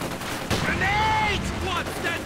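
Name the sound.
gunfire in the video game Company of Heroes 2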